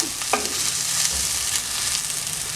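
Soya chunks roast with tomato being stirred in a hot pan: a steady, close sizzle with a few scraping strokes of the spoon, no voices.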